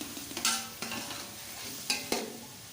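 Chicken frying in a pan with tomatoes, a quiet sizzle broken by a handful of scraping stirs and clinks of a spoon against the pan, close up with no voices.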